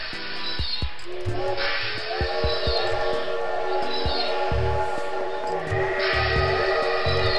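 Trains in the Paper Train video game rumble along with repeated clacks and knocks, a steady hiss and long horn-like tones, all loud and continuous without speech.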